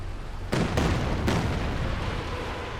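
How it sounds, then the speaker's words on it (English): Several heavy booms from a Katyusha rocket artillery barrage in a real-time strategy game, three sharp impacts in quick succession, the first near the half-second mark, followed by a rumbling low tail. "Here comes a Katyusha barrage, though."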